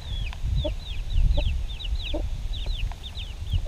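A mother hen clucks softly to her five chicks, about two to three weeks old, in a nursery coop, with repeated high peeping chirps from the chicks over her low clucks and steady farmyard background.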